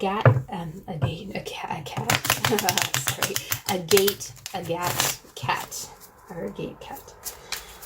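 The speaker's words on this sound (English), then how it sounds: "I'm just going to shuffle a little bit." A tarot deck is shuffled by hand in quick riffling bursts, close and crisp, under soft speech.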